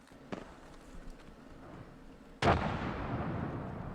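Frag grenade going off in the Apex Legends video game: a sudden loud blast about midway that rolls on as a sustained rumble to the end, after an earlier sharp crack over steady game ambience.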